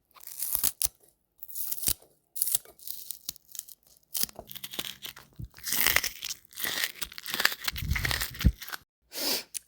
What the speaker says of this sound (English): The next one is the sound of a green onion.